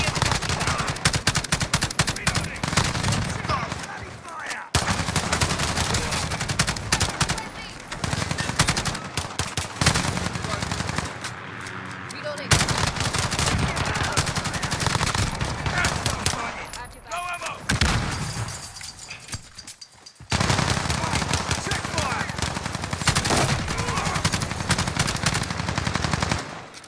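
Sustained bursts of rapid automatic gunfire from a first-person shooter game, loud and near, running almost continuously with a few short pauses between volleys.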